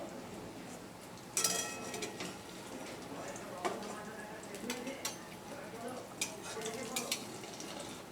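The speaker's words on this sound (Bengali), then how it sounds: "ওই তেলের মধ্যেই আমি আলু কেটে রেখেছি ডুমো ডুমো করে, সে আলুগুলো একটু লাল করে ভেজে নিচ্ছি।" Cubed potatoes fry in hot oil in a home kitchen, giving a soft, steady sizzle with occasional clinks of a utensil stirring against the pan, all fairly quiet.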